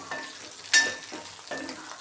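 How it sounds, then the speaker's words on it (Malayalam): Tomato and okra being sautéed and stirred in a pan for sambar, with a few short scraping stirs and a soft sizzle, close and fairly quiet, no talking. "ഈ തക്കാളിയും വെണ്ടയ്ക്കയും കൂടെ വഴറ്റി ചേർത്താലും നല്ലതാണ്"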